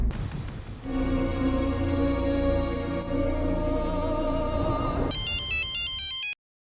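A phone ringtone plays loudly and steadily with a sustained tonal melody, shifting into a bright rapid electronic pattern before cutting off abruptly; no talk over it.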